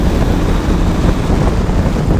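Roaring wind rush and engine drone of a 2017 Bajaj Pulsar 220 motorcycle riding at high speed, steady and loud throughout, with no talking.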